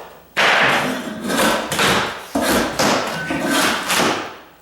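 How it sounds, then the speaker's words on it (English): A shovel prying up oak floor planking in a condo rehab, giving a run of loud, close scraping and cracking bursts with sharp thumps as the boards break loose, with no talk. "I'm kind of thinking this shovel's gonna do it hopefully it's not glued down"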